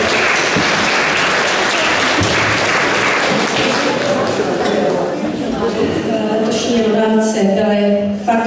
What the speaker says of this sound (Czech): Takže potlesk, děkujeme, že jste se k nám vrátili.